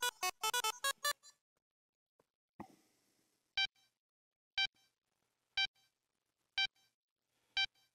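Electronic beeps from the Kingdom Hearts III video game: a quick burst of tones, then single clear beeps repeating at steady intervals, bright and isolated against near silence.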